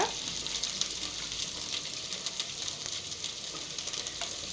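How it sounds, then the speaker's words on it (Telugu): Coconut milk hitting a hot pan after ginger-garlic paste has been fried, giving a steady, close hiss and sizzle that runs without a break for several seconds, with no talking. "ఇప్పుడు మనము కొబ్బరిపాలు అయితే వేసుకోవాలన్నమాట."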